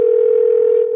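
A steady telephone dial tone rings loud and close for a full second, unbroken and with no voices, as a call is placed back.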